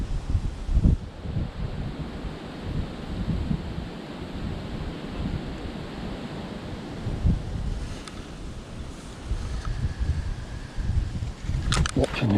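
Steady wind blowing across an open fishery bank during a match fishing session, a constant broadband rush buffeting the microphone, with gusts rising and falling over about twelve seconds.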